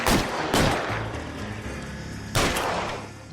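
Gunfire from a shootout in the LA Noire video game: loud sharp shots at the start, another near half a second later and a third burst past two seconds, separated by a rumbling low background.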